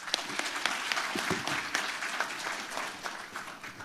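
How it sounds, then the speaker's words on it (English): Audience applause at a carbon markets conference as a panel session closes, a steady crackling wash of many hands clapping with no voices over it. "please join me in giving a round of applause to the panelists."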